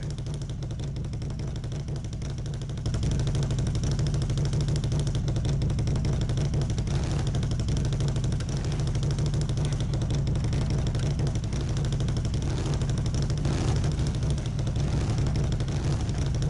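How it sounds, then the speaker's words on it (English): Heavy truck engine from the SnowRunner video game, driving in low gear on Canadian Shield mod trails: a steady, loud low drone that swells after a few seconds and holds on alone without talk. "This thing is much more enjoyable in the low gear because I don't hear the engine as much."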